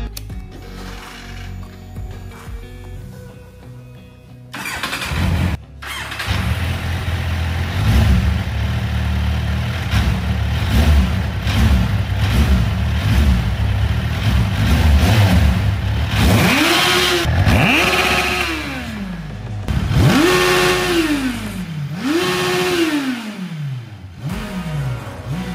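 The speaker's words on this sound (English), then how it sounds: "Because now, this bike can start perfectly." A restored, formerly rusted Kawasaki Z1000 motorcycle engine cranks and starts after mechanical clicking, then settles into a loud running note and is revved repeatedly in rising-and-falling sweeps.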